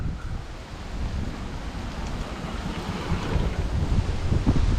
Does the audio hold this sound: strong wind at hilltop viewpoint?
yes